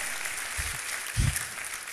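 A church congregation applauds during a sermon, a steady wash of clapping with a couple of low thumps underneath.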